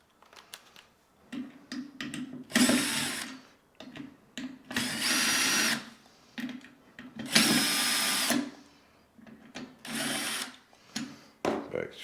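Cordless power drill backing Phillips screws out of a garbage disposal under a kitchen sink, four separate whirring bursts of a second or so each, separated by quieter handling noises and brief talk.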